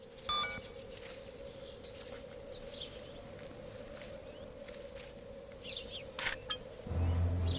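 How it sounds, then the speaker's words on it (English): Faint bird chirps in the video game The Bradwell Conspiracy, set in the Bradwell R&D Facility, scattered over a steady low electrical hum, with a few brief footstep-like knocks and a louder rumble at the end. "So that's where the bird sounds come from."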